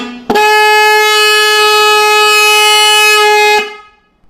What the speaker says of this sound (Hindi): ये हमारा हॉर्न एकदम रिपेयर हो गया और ठीक से बज रहा है